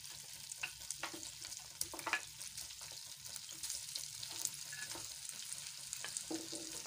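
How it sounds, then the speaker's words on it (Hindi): Mutton pieces frying in butter in a pot: a continuous faint crackling sizzle with scattered spoon scrapes and stirs, close but quiet, without any speech. "ये जो मैंने मटन निकाला था अलग से, इसको मैं इसमें ना फ्राई कर लेती हूँ।"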